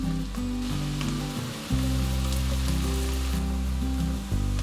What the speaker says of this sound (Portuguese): A cebola começou a refogar, eu vou colocar 1 dente de alho ralado.